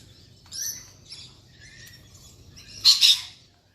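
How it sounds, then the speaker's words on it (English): Harsh squawks from galahs and corellas at a feeder come in short bursts, with a louder, raspy screech near the end against a quiet outdoor background. "another galah and another corella over there on that feeder"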